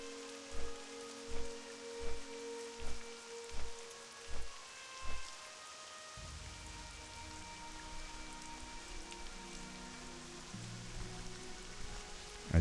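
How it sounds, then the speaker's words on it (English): Steady rain falls across a zone in World of Warcraft Classic, a soft continuous hiss under game music, following a run of evenly spaced footsteps or thuds in the opening seconds. "Oh, and it's raining."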